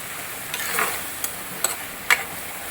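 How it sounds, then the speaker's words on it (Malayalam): Tamarind water being stirred into an ivy gourd curry in a pan, a soft sizzling simmer with a few sharp clicks and taps of a spoon against the vessel, quiet and close. "ഒന്ന് ഇളക്കി കൊടുക്കുക."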